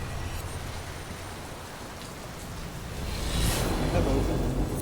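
Rain falling in the video game Metal Gear Solid V, a constant broadband hiss that thickens and grows louder in the final seconds, with no voice over it.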